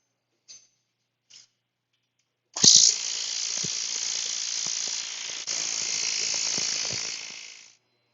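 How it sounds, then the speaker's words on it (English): A torque wrench ratchets continuously while tightening big nuts to 80 foot-pounds. A couple of faint clicks come first, then about five seconds of loud, close, buzzing ratchet clatter. "And then we'll torque them to 80 foot-pounds."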